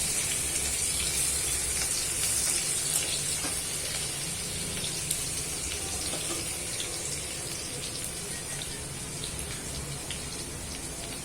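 Ginger and garlic sizzle in hot oil seasoned with asafoetida for an Indian dal dish, a steady, close crackling fry that carries on without a break and with no talking.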